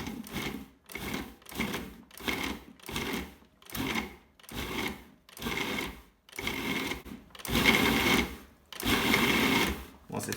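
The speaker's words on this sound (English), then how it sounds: "I start by pulsing it to pulverize it." A food processor pulses pine nuts, sugar and flour in about ten short, even bursts with brief gaps. The bursts grow slightly louder and longer toward the end, heard up close with no talking.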